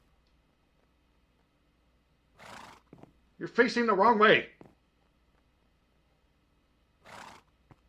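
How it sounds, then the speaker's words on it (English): Horses in the Minecraft video game give one loud, wavering whinny in the middle, with short breathy snorts just before and later, and a person talking in between. "oh, something happened here with my horses."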